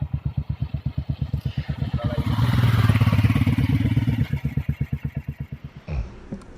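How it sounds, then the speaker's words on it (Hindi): A motorcycle idles and warms up on a cold morning before a mountain ride toward Tawang, its steady, close thumping pulses swelling into a stronger rev mid-way and then dropping back to idle before cutting off. "मानस राइडर सुबह बाइक को वार्म अप करते हुए।"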